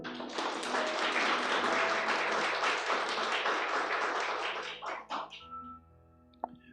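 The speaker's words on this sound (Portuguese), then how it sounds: "Pode aplaudir o Senhor" Congregation clapping for the Lord during a Portuguese-language sermon, a dense steady round that tapers off and stops, followed by quiet room tone and a single sharp tap.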